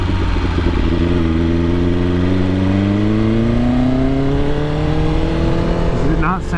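A BMW S1000RR sport motorcycle with a Brentune engine tune revs up close by, its loud tone climbing smoothly and steadily in pitch before dropping off near the end.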